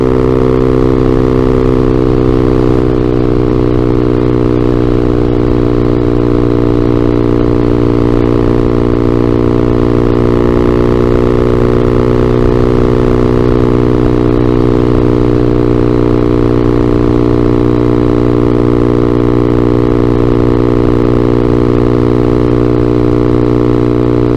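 A Vader ZS190 Honda Grom clone motorcycle drones at a steady mid-pitched engine note while riding, loud and continuous with slight pitch shifts and no talk.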